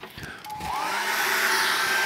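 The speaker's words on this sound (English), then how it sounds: "let's dry that off with a hairdryer" Hairdryer blowing on wet acrylic paint, a short click as it switches on, then a steady high-pitched whine and rushing air holding at a constant loud level, with no talk.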